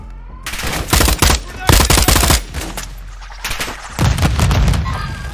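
Rapid automatic gunfire bursts from the shooter game Call of Duty: Modern Warfare II, loud and close, several volleys with short gaps and booming impacts, with faint voices underneath.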